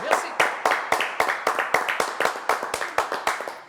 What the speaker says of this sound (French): Applaudissements pour Sam